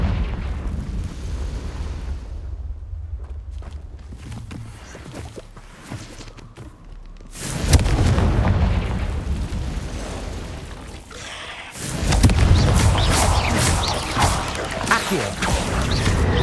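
Confringo blasting spell explosions in Hogwarts Legacy on PC: two heavy, booming blasts with sustained rumbling roar and debris crackle, rising out of quieter footsteps and ambience, with a shouted incantation.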